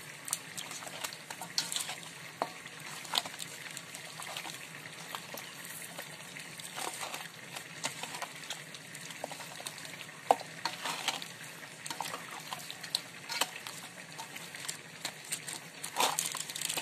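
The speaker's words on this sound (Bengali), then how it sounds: "সব উপকরণ একসাথে দেওয়ার পর এখন ভালো করে মেখে নেব।" Chicken pieces being kneaded by hand with chaat masala and kebab spice marinade for grilled chicken, producing continuous wet squelching and slapping sounds, close and steady throughout.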